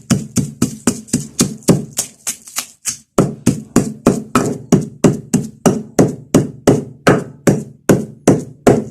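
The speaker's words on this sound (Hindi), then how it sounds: "अब मैं लाल मिर्च डालूंगी गोल, इसको भी कूट लूंगी।" Whole red chillies and anardana pounded by hand in a mortar, a loud, close, steady rhythm of about three heavy thuds per second with one short pause.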